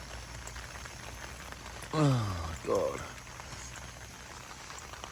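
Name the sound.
heavy rain falling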